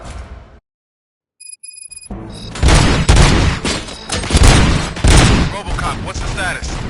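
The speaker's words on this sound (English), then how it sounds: "Gunshots? What's going on?" Bursts of heavy gunfire in a RoboCop film scene ring out after a brief silence and a few high electronic tones, then continue as loud, ragged volleys mixed with booms to the end.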